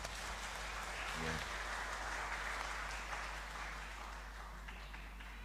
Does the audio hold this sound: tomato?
no